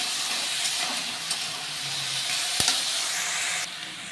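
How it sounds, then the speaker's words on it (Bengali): Steady, loud sizzling of chopped eggplant and onion frying in a pan, with a few scraping stirs and a brief clack near the end; no voices. "এবার আমি বেগুনের কুচিগুলো দিয়ে দেবো, দিয়ে এটাকে একটু নেড়ে চেড়ে ভেজে নেব"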